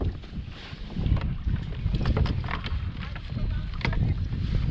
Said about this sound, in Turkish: Bugün çok rüzgar var. Rüzgardan rahat olmuyor.